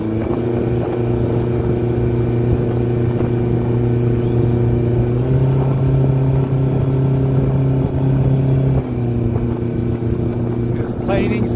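A Willie open jet boat with a blue hull accelerates hard onto plane, its engine holding a loud, steady droning roar with a pitch shift midway as it climbs to planing speed, heard close and continuous.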